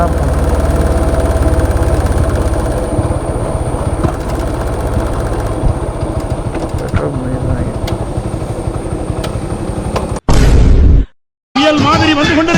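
A Royal Enfield Bullet motorcycle engine idling as the rider pulls up, a steady loud thumping rumble close by, ending in a burst of loud noise and a brief dropout.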